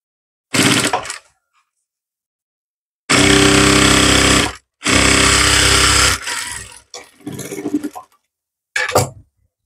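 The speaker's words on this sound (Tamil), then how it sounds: "இந்த சைடு ஃபுல்லாவே தையல் போட்டுற போறோம்" A sewing machine stitching the side seam of a chudidhar pant, running in several loud close bursts of whirring, two long runs in the middle and shorter ones around them, separated by silence.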